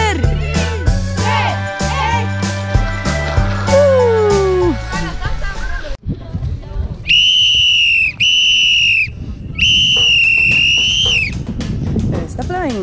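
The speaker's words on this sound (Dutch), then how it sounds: "Waarom blaas jij op jouw fluitje?" A shrill whistle is blown in three long, wavering bursts after a stretch of bouncy music and voices, loud and close.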